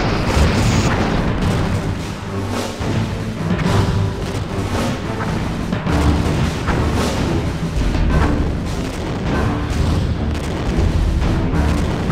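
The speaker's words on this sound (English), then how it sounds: "The last Kesok ship has been destroyed." In the Star Trek Bridge Commander space game, a Kesok ship blows up amid a sustained, loud roar of booming blasts and rumbling debris that carries on heavily for the whole stretch, with no talk.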